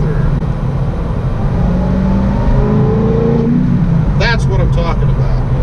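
Corvette ZR1 engine pulls hard through the gears, a rising drone that climbs in pitch, then drops with each shift and climbs again, close and loud, with a voice speaking over it.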